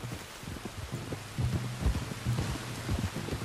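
Steady rain falls in the Red Dead Redemption 2 video game, a constant hiss with low rumbling thumps rising and falling beneath it, with no voices heard.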